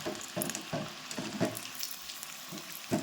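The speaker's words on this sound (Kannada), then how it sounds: "ನಾವು ಎಣ್ಣೆ ಒಳಗೆ ಫ್ರೈ ಮಾಡಿರೋ ಪನ್ನೀರ್ ಟಿಕ್ಕಾ" Paneer tikka fries in hot oil on a gas stove, giving a steady sizzle with soft, regular bursts as the pieces are stirred or turned, close up and with no talking.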